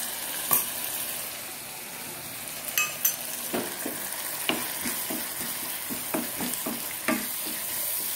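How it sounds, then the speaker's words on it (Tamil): Garlic and spice mix sautéing in sesame oil for a garlic gravy, a steady sizzle with repeated spoon scrapes and clinks against the pan, close and fairly loud, no talking. "பச்சை வாடை போகிற வரையிலும் இதிலையே வதக்கிக்கலாம்"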